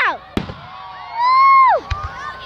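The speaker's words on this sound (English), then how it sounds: "FIREWORKS!!" Fireworks go off with a couple of sharp bangs, while excited voices cheer and exclaim loudly over them.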